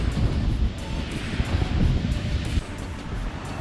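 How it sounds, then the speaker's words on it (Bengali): Sea waves on the beach at Henry Island, Bakkhali, give a continuous low rumbling wash, while gusty wind buffets the microphone throughout. "আর এটা হচ্ছে সমুদ্র এখানটা।"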